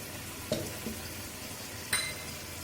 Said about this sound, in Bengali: 10 মিনিট পর আমি ঢাকাটাকে খুলে দিচ্ছি।